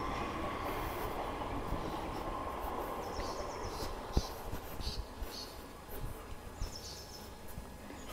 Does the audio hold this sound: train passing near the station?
yes